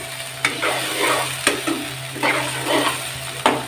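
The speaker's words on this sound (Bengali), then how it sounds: "ভালো করে নাড়তে হবে।" Prawns frying with taro stolons (kochur loti) in a pan, stirred with a few sharp scraping knocks against steady sizzling, loud and close with no voices.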